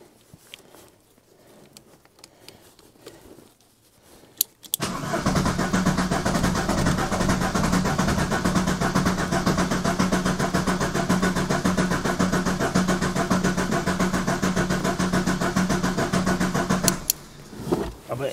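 A Ford Escort diesel estate, left standing for years, is cranked on a first start attempt. After a few quiet seconds, a loud, steady engine roar begins and holds for about twelve seconds before cutting off.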